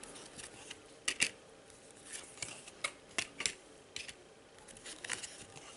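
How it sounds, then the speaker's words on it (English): Cards are drawn one after another from a deck during a Sentinels of the Multiverse board game, giving a few soft, crisp slides and snaps over a quiet room background. "So I'm going to draw 4 cards."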